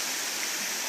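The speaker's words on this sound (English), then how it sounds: "rebuilt this rock waterfall along the back for the homeowner" A rebuilt rock waterfall pours into a remodeled backyard swimming pool, giving a dense, even rush of falling water that stays loud and constant throughout, with no voices.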